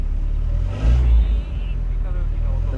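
An Alpine A110 passes nearby with a swelling engine rumble that peaks and fades within a couple of seconds, while people talk over it.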